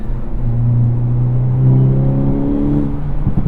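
A 2023 Hyundai Elantra N engine held at full throttle gives a loud, steady, close-up drone whose pitch climbs smoothly as it revs for several seconds, then wavers and drops off at the end.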